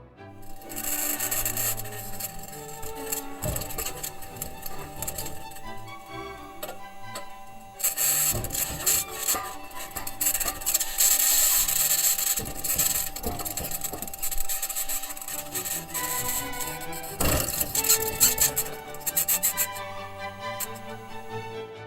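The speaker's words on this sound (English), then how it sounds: "we can hear the bangs, pings, and rattles from metal wheels rolling over the rocks" Metal wheels of the Mars rover Perseverance roll over rocks, giving continuous close scraping and grinding with scattered bangs, pings and rattles, plus a high-pitched scratching noise throughout.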